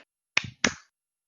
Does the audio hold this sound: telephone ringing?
no